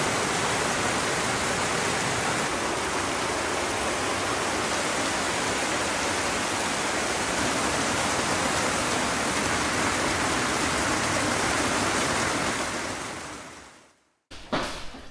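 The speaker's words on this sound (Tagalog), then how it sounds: "Parang ang lakas ng tubig, oh." Rushing water from waterfalls in a remote mountain area of Benguet after rain, a loud, dense, continuous roar that holds steady before cutting off abruptly near the end.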